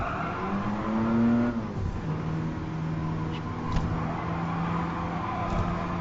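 A race car engine in Gran Turismo Sport, heard in a GT League race, revs high and then drops through the gears as it downshifts, with the pitch falling in steps, tire noise underneath and short sharp clicks.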